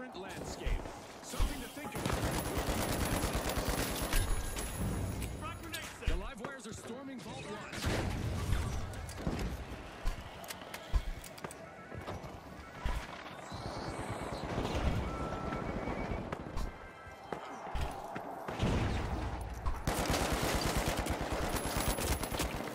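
Rapid gunfire from the video game The Finals, dense bursts of shots running almost continuously under a busy game mix, loud and close throughout, with talk over parts of it.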